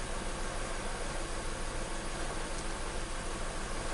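A 2014 Nissan Versa engine with a cylinder misfire idling nearby, a steady broadband hum and hiss held at an even level throughout, with no voices.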